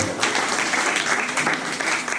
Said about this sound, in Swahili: Mungepiga makofi mazuri jamani.